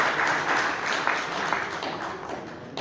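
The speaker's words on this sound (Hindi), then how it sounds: "एक बार जोरदार तालियां सब बजाते हैं" Audience clapping at a trade association meeting as guests are honoured with garlands: a steady, dense patter of many hands, moderately loud and sustained throughout with a few sharper individual claps.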